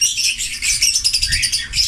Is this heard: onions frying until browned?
no